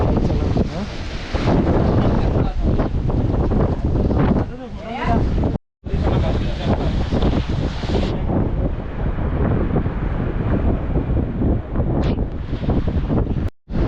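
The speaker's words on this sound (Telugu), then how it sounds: "ఇది మన రేపులవరం బీచ్" Strong wind buffets the microphone at Revupolavaram beach with surf washing steadily underneath, loud and continuous with two brief dropouts; a person talks over it.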